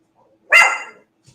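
A single dog bark rings out sharply, close and loud, then quickly trails away into near silence, with a faint second sound briefly following.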